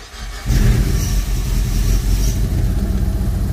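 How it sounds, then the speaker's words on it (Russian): A Mitsubishi Colt engine fired by an alarm remote start catches after a short quiet lead-in and settles into a steady, loud idle rumble that holds to the end, with no voices. "давайте уже заведу, покажу, что сигналка с автозаводом"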